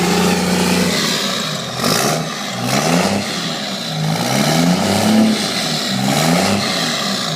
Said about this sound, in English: Rick, they want to hear a little throttle.